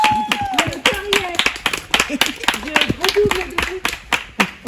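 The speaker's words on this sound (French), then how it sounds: "j'aimerais un tonnerre d'applaudissements pour Daniel Black" A small group on a French film set claps for an actor after shooting, giving crisp, close hand claps in an uneven rhythm alongside talking and laughter.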